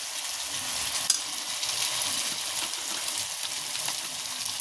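Boiled potatoes fry in a pan with a steady, moderately loud sizzle, broken now and then by faint stirring clicks and small pops, with no voices.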